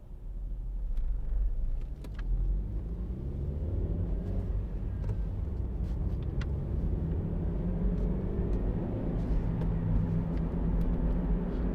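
A 2011 Honda CR-Z 1.5 IMA hybrid hatchback cruising along, with a steady low rumble of engine and road noise from inside the cabin and a few faint clicks over it.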